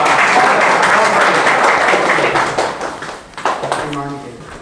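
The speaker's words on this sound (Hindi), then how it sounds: "आपकी तालियों के साथ बुलाना चाहूँगा मैं उन्हें, जिनका नाम है माही।" Audience at a school teachers' award program applauds with a dense burst of clapping that tapers off after about three seconds, followed by someone speaking.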